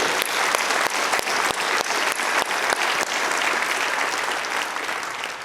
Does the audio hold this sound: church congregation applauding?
yes